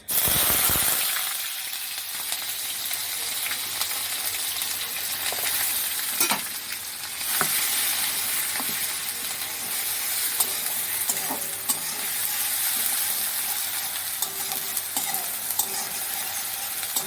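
Grated onion fries in a pan with a sudden, steady sizzle that continues throughout, while a utensil scrapes and stirs through it with occasional sharper clinks.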